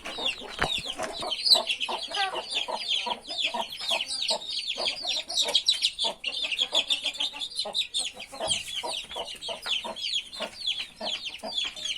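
Many chickens cluck and chatter busily together, a dense, continuous flock sound close by with no talking.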